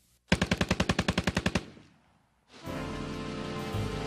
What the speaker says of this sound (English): Gangsters were also the first to use automatic weapons outside of the military